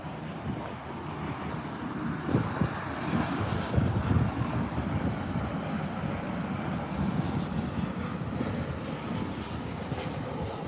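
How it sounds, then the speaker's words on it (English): Airbus A320 airliner taking off at Birmingham airport, a steady, distant engine roar with broadband rumble that holds level throughout, with no talk over it. "the A320 will be taking off"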